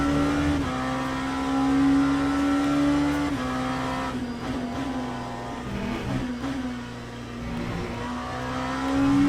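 LMP2 race car engine in the sim racing game Le Mans Ultimate, a steady high-pitched drone that rises and falls with throttle and gear changes, heard alone from onboard.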